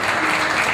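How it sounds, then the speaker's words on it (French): Steady applause from an audience at a beauty pageant evening, a dense continuous patter of clapping hands filling the whole moment without pause. "allez, applaudissements pour une belle sortie de star"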